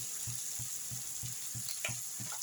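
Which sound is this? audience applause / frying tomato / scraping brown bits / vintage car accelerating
frying tomato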